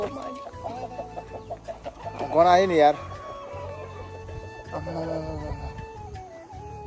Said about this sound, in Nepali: लोकल कुखुरा